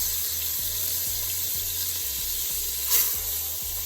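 Marinated oxtails browning in a pan for Jamaican oxtail stew give a steady, close sizzle with faint low rhythmic thumps underneath and no talking.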